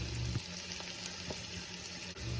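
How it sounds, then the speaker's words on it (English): Onions fry in hot oil in a pan, giving a steady close sizzle with a few faint clicks from stirring, no voices. "We're looking to fry these onions to caramelization."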